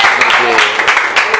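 A church congregation claps together during a worship service, brisk and fairly loud, with a voice speaking over the applause.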